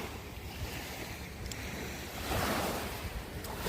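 Ocean surf breaks on a beach at Ko Samet in the Gulf of Thailand, a dense continuous wash of water with a swell of louder rushing midway and some wind buffeting the microphone.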